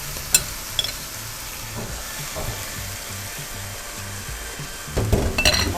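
Pork loin frying in a pan for Kapampangan-style batchoy, a steady close sizzle with a few sharp clicks of stirring, and a louder burst of sizzling and scraping near the end.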